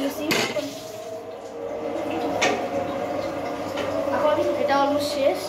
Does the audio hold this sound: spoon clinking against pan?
yes